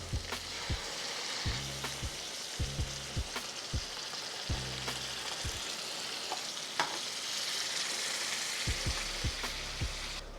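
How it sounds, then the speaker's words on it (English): Tomato sauce added to a hot skillet sizzles steadily and loudly nearby, with occasional knocks and scraping from stirring, and no one speaking. "And now we're gonna add our tomato sauce."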